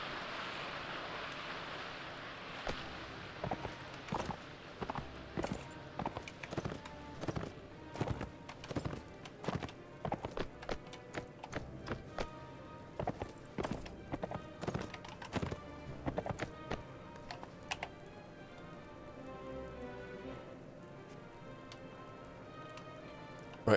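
Horses trot in the Mount and Blade: Warband video game, a steady run of clip-clopping hooves that fades out toward the end, with no talk.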